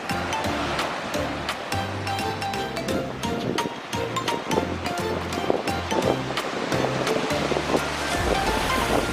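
Surf rolls continuously onto a Tobago beach near Castara. The loud, close waves wash and crash in repeated surges with a rushing, windy texture and no talk.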